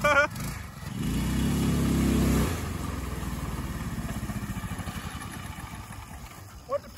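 A go-kart fitted with a 212 Hemi engine roars loudly nearby at high revs, then drops to a lower, pulsing engine note as it keeps driving over rough ground, with a short sharp knock near the end.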